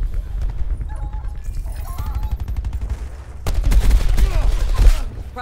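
Gunfire in the Black Ops 4 shooter game, a low rumbling rattle that turns into a louder, denser burst of rapid shots and impacts in the second half.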